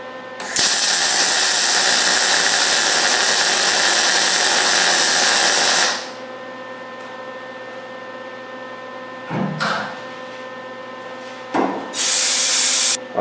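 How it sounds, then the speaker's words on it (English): Welding a bumper jack bracket on a 1972 Camaro: a loud, steady crackling hiss of the arc for about five seconds, then quiet hum, with two short bursts of welding near the end. "so we're going to go ahead and weld it."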